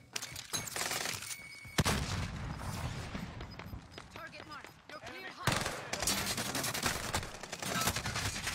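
Rapid bursts of video game gunfire crack close and loud, with automatic volleys and single shots separated by short pauses, while players talk over the shooting.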